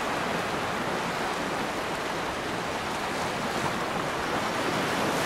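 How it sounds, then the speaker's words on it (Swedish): Steady rushing surf of ocean waves with a windy, broadband wash, continuous and fairly loud throughout. "lyssna på vågor"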